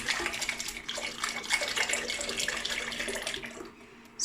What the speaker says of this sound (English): I'm gonna pour this in while mixing